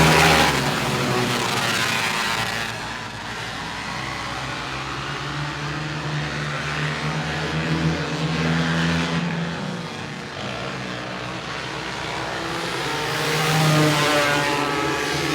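Sprint cars roar around a dirt oval on the first lap in a loud, continuous engine drone, rising and falling as the cars pass and accelerate.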